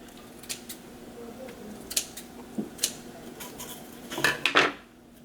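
Scissors snip through tulle while a Halloween hair bow is being made, with several crisp, separate cuts spaced out and a quick cluster of snips near the end.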